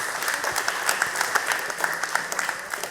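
A group at a church or Bible study gathering claps after a correct answer, a dense, even patter of applause with a few sharper hand claps standing out, mid-distance and steady throughout.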